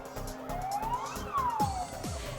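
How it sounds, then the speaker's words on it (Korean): Fire command car, pump truck and ambulance arrive at a safety drill in Yanggu, sirens sweeping up and down in short wails over traffic rumble. "인명구조와 화재 진압을 위한 지휘차, 펌프차, 구급차 등 양구 소방서 출동대 차량이 도착하고 있습니다."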